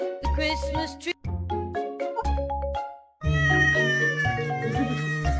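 A pet cat meows loudly and repeatedly up close, with drawn-out, tonal cries broken by brief pauses, beside a decorated Christmas tree; a faint jingling tinkle sounds behind the calls.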